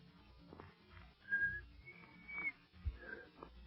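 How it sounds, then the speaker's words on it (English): In an old-time 1939 radio drama, a person whistles a few faint, thin notes in short attempts, low and close over a quiet, slightly hissy background. "Oh, shucks, I never could whistle."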